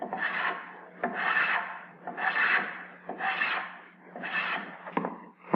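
A hand plane shaving wood in a workshop, five rhythmic rasping strokes about a second apart, each swelling and fading, close and clear with no talk.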